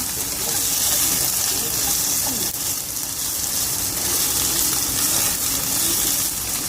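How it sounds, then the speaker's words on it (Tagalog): Dense, steady hissing and crackling of carbonara ingredients frying in a pan, loud and close, continuing without a break. "We'll fry this all together."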